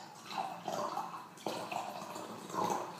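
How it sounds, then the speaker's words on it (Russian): Lukka-brand mineral water poured from high up into syrup to dilute it, a steady splashing gurgle with bursts of fizzing liquid and one sharp clink partway through, close and alone. "Чем же я разбавлю сиропчик? Вот такой вот минеральной водой фирмы Лука."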